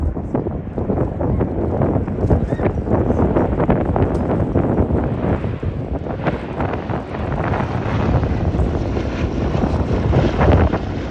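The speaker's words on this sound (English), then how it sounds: "Next display is the B17" The B-17 bomber Sally B flies a display at the Abingdon Air and Country Show. Its engines make a continuous, rumbling drone at a distance, heavily buffeted by wind gusting across the microphone.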